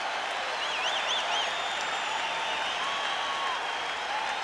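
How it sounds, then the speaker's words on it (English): An NBA basketball arena crowd cheers during a Celtics comeback against Chicago, a dense, sustained roar of applause and shouting with whistles rising over it. "Listen to the crowd as the Celtics have come back, still trailing by 5."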